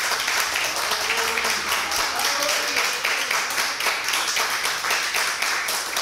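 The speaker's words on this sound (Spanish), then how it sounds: "un aplauso para Moni." Audience applause during a studio program, a steady wash of many hands clapping at a fairly even level, with a brief voice murmuring faintly underneath early on.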